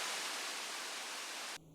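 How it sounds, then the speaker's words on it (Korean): Water from Uirimji reservoir pouring down the valley at Yongchu Waterfall in Jecheon, a steady broad rushing roar that holds evenly and cuts off abruptly near the end. "여기가 의림지에 있는 물이 이쪽으로 밑으로 해서 계곡 밑으로 그냥 쭉 떨어지는 겁니다"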